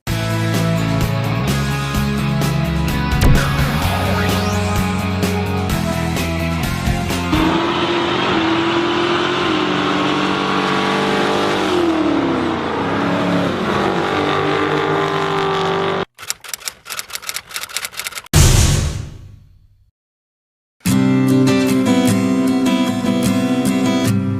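A 2015 Subaru Outback driving off-road on a dirt trail, engine humming and shifting pitch as it maneuvers and turns around, with background music over the engine, a sudden cut, then brief silence.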